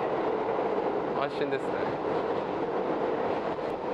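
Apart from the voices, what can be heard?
New York subway train car riding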